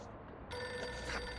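In Reverse: 1999, a telephone ring starts abruptly after a brief quiet moment and holds steady to the end.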